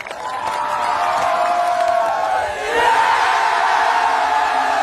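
A large outdoor crowd roars and cheers, a dense sustained swell of voices and clapping that dips briefly and then surges back louder.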